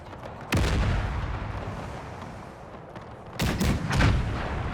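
Artillery fire from Napoleon: Total War with the Era Mod. A loud single cannon boom comes first, then a rumbling lull, then a rapid cluster of several heavy booms near the end.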